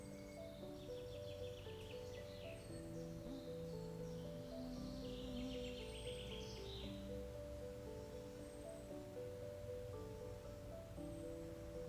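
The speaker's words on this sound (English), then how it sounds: "The birds around us sing." Birds sing softly in a forest during the solstice, with scattered chirps and trills above a steady low drone and rustling background, continuous and fairly distant.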